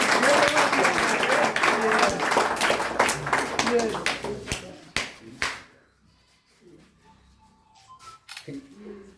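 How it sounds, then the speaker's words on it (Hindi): A crowd at a toppers' awards ceremony breaks into loud, dense applause for about six seconds. It stops abruptly, and a few scattered taps and murmurs follow in the quiet. "दोनों के लिए जोरदार ताली"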